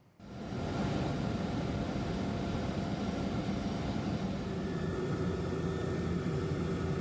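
Indonesian Air Force helicopter in flight over flood and landslide areas, a loud, steady, continuous engine and rotor roar that swells in at the start and holds unbroken, close and alone with no voices.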